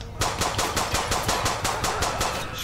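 Rapid automatic gunfire in GTA 5 during a shootout over a stolen money truck, a steady burst of roughly a dozen loud, evenly spaced shots with no talk over it.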